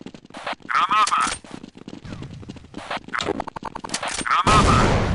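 Gunfire crackles in Counter-Strike 1.6 as loud bursts of rapid shots repeat through the round, with players talking over and between the volleys.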